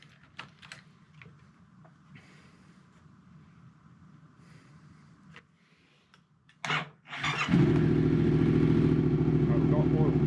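A turbocharged Yamaha MT-07 motorcycle engine starts for the first time: after quiet clicking and faint voices, the starter whirs briefly, then the engine catches and settles into a loud, steady, close idle rumble.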